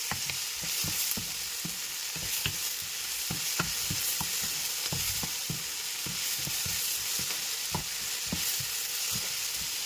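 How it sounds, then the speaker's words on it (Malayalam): Onions sauté in a pan for a squid masala, giving a steady, close frying sizzle with scattered stirring clicks throughout, and no talking. "ഏകദേശം നമ്മുടെ സവാള ഒന്ന് വഴണ്ട് വരുന്നുണ്ട്."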